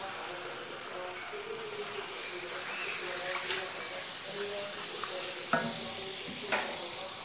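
Turmeric and browned onion fry in a pan for a restaurant-style boneless chicken handi, a continuous hiss of sizzling with occasional scrapes and knocks of stirring.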